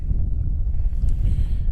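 Gusty wind buffets the microphone out on a lake while fishing from a boat, a dense low rumble that continues steadily throughout.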